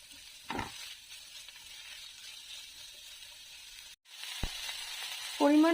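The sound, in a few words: sautéing ginger and garlic paste for chickpea ghugni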